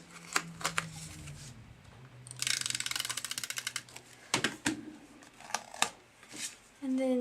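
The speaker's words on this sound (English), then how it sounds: "run snail along the outside edges" A snail adhesive tape runner laying strips along the edges of a football-themed card, giving a brief rapid ratcheting clicking burst amid soft paper handling and scattered taps.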